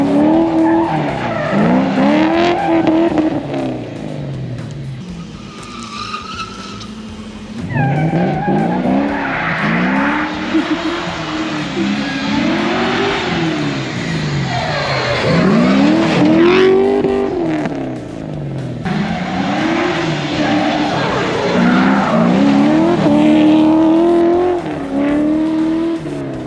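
A Nissan 240SX drift car fitted with a Corvette engine drifts nearby, its engine revving and wailing in repeated rising and falling surges, with tires squealing and skidding loudly throughout and a short lull midway.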